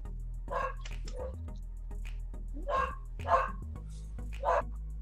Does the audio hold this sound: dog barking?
yes